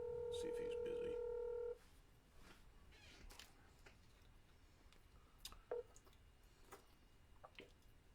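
Telephone keypad tones dial a phone number, a short burst of steady overlapping beeps at the start, loud and close, followed by quieter background noise and faint voices.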